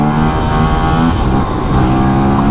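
An Aprilia RS457 motorcycle engine held at steady high revs during a wheelie, loud and close, with a continuous droning roar and no talking.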